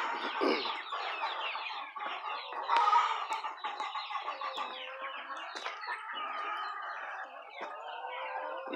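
Chickens cluck steadily on a rural chicken farm, a dense flock of overlapping clucks and squawks close by, continuous throughout with no voices.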